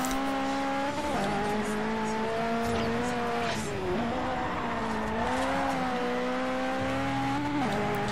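A Ferrari F40 in the Forza Horizon racing game drifts with a loud, continuous engine howl that rises and falls with the throttle, while tire squeal streaks over it for the full length of the sound.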